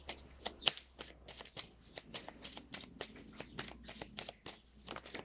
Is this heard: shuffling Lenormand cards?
yes